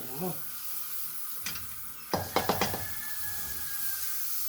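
Margarine heats in a pan for scrambled native eggs, giving a faint, steady sizzle, with a few sharp knocks and taps of a utensil against the pan partway through.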